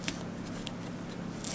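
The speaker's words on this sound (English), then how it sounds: "And I gotta get my scissors out here." Scissors snip through thick roll paper used for drafting a bodice block, a few quiet, close crisp cuts followed by a louder rustle of the paper at the end, with no talking.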